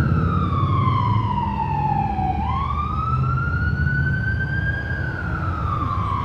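An emergency vehicle siren wails loud and close on Hawaii's North Shore, its pitch sliding down and then sweeping back up in a single long cycle, alone without voices.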